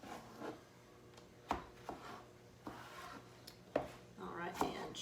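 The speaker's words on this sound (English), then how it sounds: "So I'm going for cucumber number 2. So splitting it right down the middle" A kitchen knife splits a cucumber lengthwise on a cutting board for a Mediterranean salad, giving several sharp thuds and scraping strokes up close, while a person talks quietly in the background.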